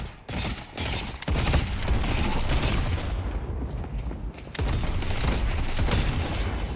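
Rapid gunfire trading back and forth in the shooter-MOBA Deadlock: repeated sharp bursts and volleys over a busy mechanical din, fairly close and continuous, with brief gaps between salvos.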